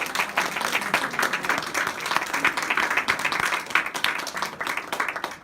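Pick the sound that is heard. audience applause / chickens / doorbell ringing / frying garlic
audience applause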